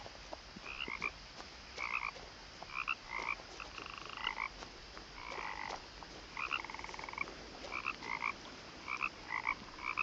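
Frogs croak in the video game What Remains of Edith Finch, a steady series of short, repeated croaking calls at moderate distance with no talking.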